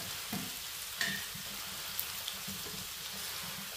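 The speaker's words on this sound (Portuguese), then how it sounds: "Ó, só o meu refogar aqui, tá vendo?" Seasonings sautéing in a pan over a wood-fired stove on a rainy farm day, a steady close crackling sizzle with a few small clicks and knocks of a utensil.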